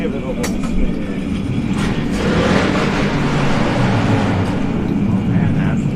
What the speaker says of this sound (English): Oh man, that's a loud truck